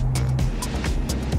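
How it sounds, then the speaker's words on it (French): A Maserati GranCabrio MC exhaust with its valves opened gives a deep, throaty engine rumble with quick, pulsing bursts, heard close and loud over a short stretch. "alors écoutez quand j'ouvre les valves"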